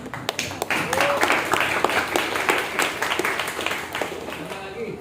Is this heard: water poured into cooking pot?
no